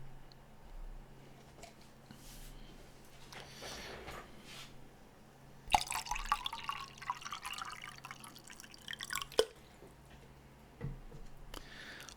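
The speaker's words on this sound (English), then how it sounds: "we'll have another little ASMR moment with the topping up of the water" Water trickles and splashes into a water bottle being topped up, with soft drips and gurgles, a louder pouring stretch midway and a few sharp ticks in a quiet room.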